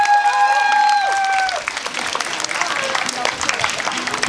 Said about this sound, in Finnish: Antakaapa isot aplodit, Mikko Ahtila.